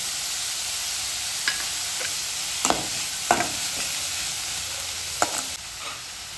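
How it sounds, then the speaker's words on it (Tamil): Onions sizzle in hot oil with coriander leaves and curry leaves for kuzhi paniyaram, a steady broad hiss broken by several sharp clicks and scrapes of stirring, close and moderately loud with no talking. "இந்த கார பணியாரத்துக்குப்பா இப்படி ரொம்பவும் கூட வதக்க வேண்டியதில்லை"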